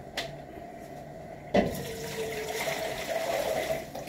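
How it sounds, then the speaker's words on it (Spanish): Water pours from a tap into a pot for cooking rice, starting with a sudden splash and settling into a steady running fill that lasts a few seconds. "Y ahora voy a poner el agua del arroz."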